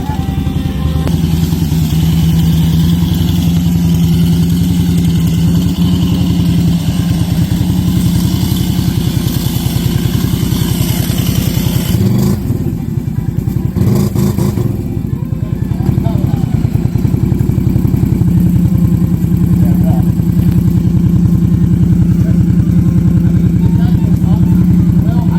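A motor engine near a land-clearing and barn-building site runs steadily throughout, rising and surging as the gas is pressed, with a short drop around the middle, while people talk over it.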